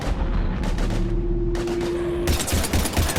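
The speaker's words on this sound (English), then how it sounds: "We're taking heavy fire." Sustained automatic gunfire in the video game Mass Effect 3 during a Reaper invasion battle, a dense continuous burst of rapid shots with a steady tone running underneath, growing brighter and harsher toward the end.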